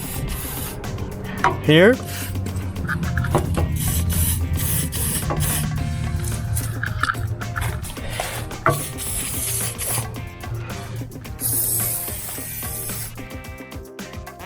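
Lubricant sprayed onto a small shaft during RV maintenance, brief hissing spray bursts and mechanical clicks near the mic, with someone talking briefly.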